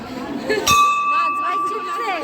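A single metallic temple bell clang rings out nearby and sustains with a long shimmering tone, while a crowd murmurs softly in the background.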